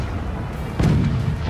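Cannon fire in the Forts video game: a single heavy boom strikes partway through and rolls into a loud, sustained low rumble over a steady background hum.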